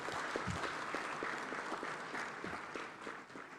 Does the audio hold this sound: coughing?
no